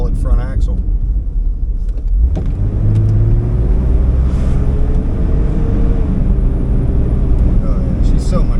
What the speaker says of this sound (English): The car seems to be running fine.